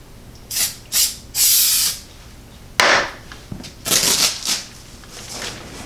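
An aerosol spray lightly coating kite fabric before sewing produces several short, close hissing bursts of uneven length, with brief quiet gaps between them.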